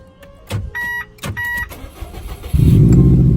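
A Subaru Impreza WRX is switched on nearby: clicks and two short electronic chimes or whirs, then the engine cranks and settles into a loud steady idle.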